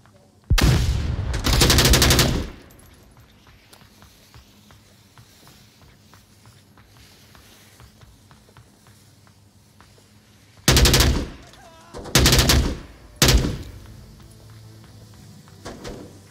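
Bursts of automatic gunfire in the VR shooter Onward, one long burst early, then three short loud bursts later, with quiet footsteps and movement between them.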